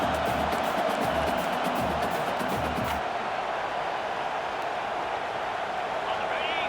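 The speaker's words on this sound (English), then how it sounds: "this crowd is making it miserable on this offense" Stadium crowd at a college football game, Iowa State against Notre Dame, roaring loudly and steadily through a fourth-down play late in the first half. Rhythmic thumping shows in the first three seconds, then a continuous wall of noise.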